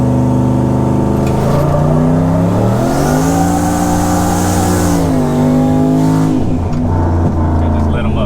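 Chevrolet Silverado pickup revving hard and spinning its tires for traction, engine pitch climbing and falling in loud surges with a rough tire-scrub roar, close and dominant throughout.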